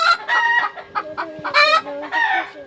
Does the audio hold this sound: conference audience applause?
no